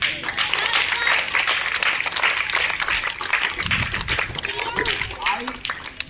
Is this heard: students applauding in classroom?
yes